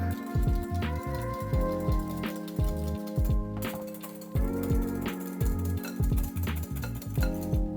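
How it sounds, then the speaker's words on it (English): Egg yolks are whisked in a bowl until thick, a steady run of rapid, close metallic clinks and taps repeating without pause and with no talk. "I wanna whisk these until they thicken, till you can almost make a ribbon in the egg yolk"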